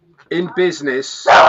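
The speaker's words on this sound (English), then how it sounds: "Sorry about the dog, by the way." A dog barks close by in three quick loud woofs, followed by a sharp burst of noise, with a voice briefly speaking over it.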